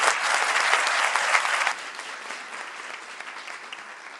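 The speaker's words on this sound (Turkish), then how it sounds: "Bir alkışla kıymetli başkanlarımıza lütfen." Applause from an audience at a municipal Women's Day gathering in İzmit, a dense wash of clapping that is loudest at first and then eases to a lower, steady patter.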